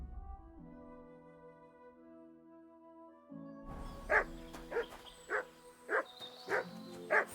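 A dog in Kingdom Come: Deliverance 2 barks six times at a steady pace, loud and close, over a quiet humming game backdrop that swells partway through.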